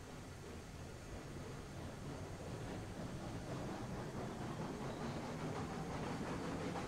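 A 20-car freight train rolls along the track in the railroad simulation game Railroads Online, a continuous, steady rumbling roar that gradually grows slightly louder, with no speech.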